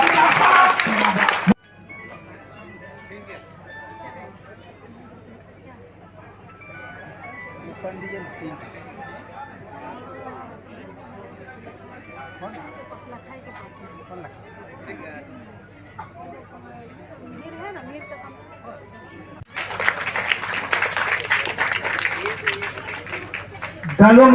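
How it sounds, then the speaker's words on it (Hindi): A crowd claps to welcome a guest at a World Adivasi Day event in Kharida football stadium. A dense burst of applause opens, chatter and talk fill the middle, and loud clapping swells again toward the end. "ताली बजाकर उसका स्वागत किया जाए"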